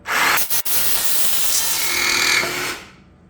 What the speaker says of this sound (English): I'm using just a jigsaw with a scroll blade